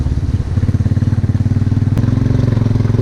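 A motorcycle engine on a slippery off-road mountain track in Mechuka, Arunachal, runs close and loud with a steady pulsing low chug, fairly even throughout without speech.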